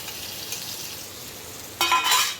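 Ivy gourd pieces tipped into a hot pan of tomato masala, setting off a sudden loud burst of sizzling and stirring after a quiet, low hiss.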